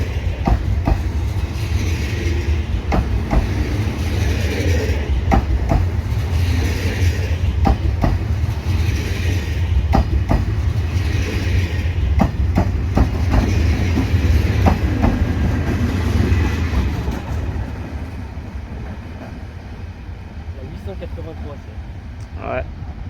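Train passing through Quimper station, a loud steady rolling rumble with repeated rhythmic clickety-clack of wheels over rail joints, fading somewhat near the end, with people talking nearby.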